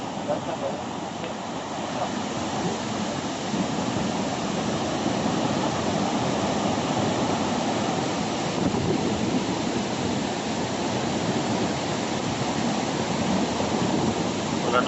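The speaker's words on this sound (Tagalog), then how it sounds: "Pero dagko kay balod." Heavy surf from large typhoon-driven ocean waves in Misamis Oriental roars continuously, a dense wash of crashing water mixed with wind buffeting the microphone, with no clear breaks between waves.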